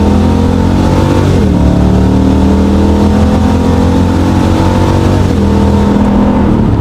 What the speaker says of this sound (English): Let's hear it at wide open throttle.